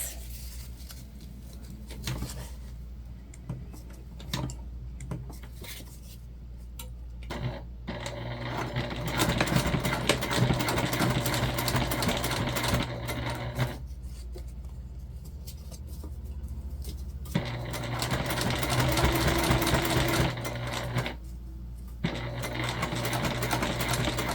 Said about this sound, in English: we're just going to top stitch to hold everything in place